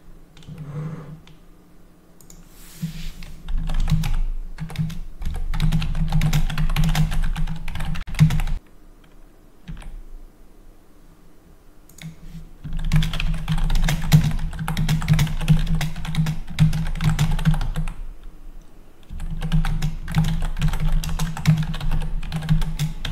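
Someone types on a computer keyboard close by in bursts of rapid clicking, separated by short quiet pauses.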